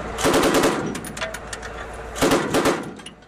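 The machine gun on a Russian army BTR-82A wheeled armoured personnel carrier fires two loud, close bursts of rapid shots, the second coming about two seconds after the first, with sharp echoing cracks.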